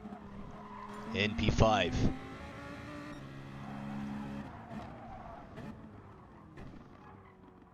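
Gran Turismo Gr.4 race cars rounding a hairpin at Suzuka, with engines revving and tires squealing early on, then fading engine drone under steady race commentary.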